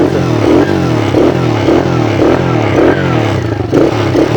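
A children's quad bike engine revs in rising and falling surges, a loud buzzy drone with a steady pulsing rhythm and some mechanical clatter throughout.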